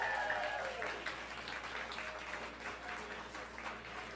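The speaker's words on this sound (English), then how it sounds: "Keep clapping, everyone." A studio audience at a radio station's 20th birthday celebration applauds steadily as guests walk up, a dense, continuous clapping that stays even throughout, with a voice speaking briefly over it.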